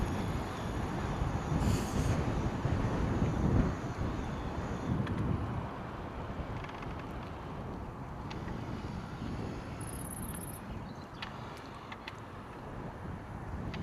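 Steady wind roars and buffets against the microphone during a bike ride on a farm, a broad rushing noise that stays loud throughout with faint distant clicks.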